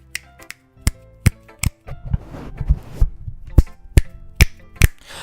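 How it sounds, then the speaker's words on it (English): Sharp, dry finger snaps ring out one by one at an irregular pace, about a dozen in all, with a soft rustling murmur and low rumble filling the middle stretch between them. "You fucking snap your finger!"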